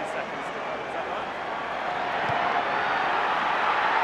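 Rugby stadium crowd in South Africa roaring in a steady, dense wash that swells slightly as the tension builds, with faint voices blended into the noise.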